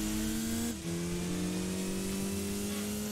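A racing car engine from the PS2 game Gran Turismo 2000 revs loud and close, holding a steady whine, briefly shifting down mid-way, then droning on at a lower pitch.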